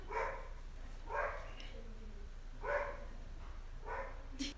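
A dog barks in four separate bursts, fairly faint and spaced about a second apart, against a quiet indoor background.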